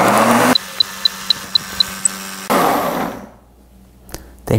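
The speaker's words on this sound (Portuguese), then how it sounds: "Vamos bater bem isso aqui" A blender whirs loudly while mixing avocado oil into a seasoning paste, with a run of short evenly spaced beeps in a quieter stretch, another whirring burst, and then near silence.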